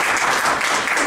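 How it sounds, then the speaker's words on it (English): A round of applause for the members of a blogging and leadership panel at an unconference, a steady continuous wash of many hands clapping at close range with no break. "can we just have a round of applause again?"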